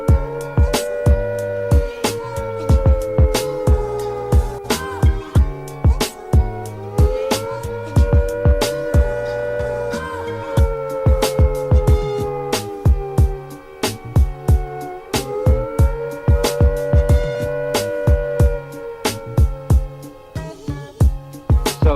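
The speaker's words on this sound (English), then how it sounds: "If attack is imminent, you will hear the attack sound like this." A civil defence air attack warning siren wails in slow rising and falling sweeps, loud and close, set against a sharp rhythmic electronic beat.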